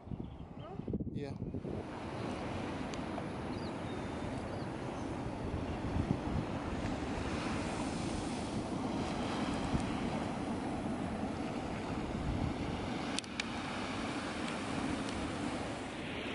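Ocean waves roll onto a beach in central Lombok, Indonesia, a continuous broad surf roar buffeted by heavy wind noise on the microphone, with brief sharp bumps near the start and later.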